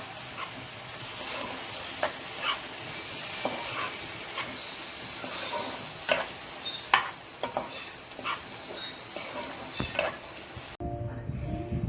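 Masala spices frying in oil for a chicken rolls curry, a steady sizzle with repeated scraping stirs and clinks, close up, with no talk over it.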